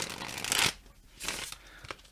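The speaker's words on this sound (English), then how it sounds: "All right, I'm going to shuffle the cards." Tarot cards are shuffled by hand in two or three quick riffling bursts, close and crisp, with short pauses between them.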